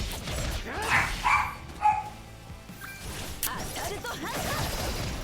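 A dog barks and yips a few times indoors at moderate distance, short sharp bursts with a crash-like clatter mixed in, over a muffled background.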